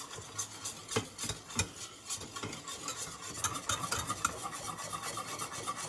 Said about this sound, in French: Bien racler dans les coins de la casserole,